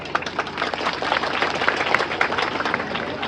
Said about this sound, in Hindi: ऐसे सियान मन पर एक बार जोरदार ताली होना चाहिए